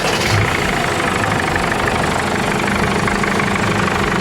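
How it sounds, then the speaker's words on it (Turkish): A caravan's engine, just serviced, runs at a steady, loud idle with a continuous mechanical rumble and vibration throughout, with no talk over it. "bakım yaptıktan sonra marşa basıyoruz"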